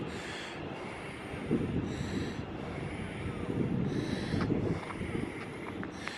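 Train at Stafford station, with a low rolling rumble under repeated bursts of bright hissing that come and go every second or so.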